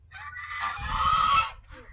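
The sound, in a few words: duck quacking on a farm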